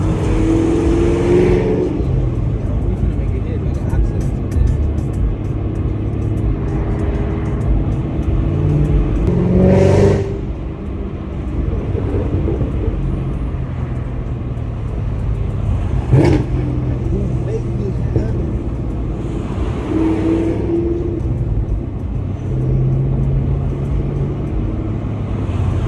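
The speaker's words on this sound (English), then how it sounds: "if you guys would hear this exhaust, man, crazy." Steady loud engine drone from a moving 2019 Camaro ZL1 1LE with a six-speed manual and a Corsa Extreme cat-back exhaust, exhaust rumble rising and falling with brief louder bursts over the constant road noise.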